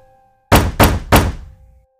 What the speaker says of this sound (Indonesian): dia mendengar suara ketukan keras dari arah pintu kamarnya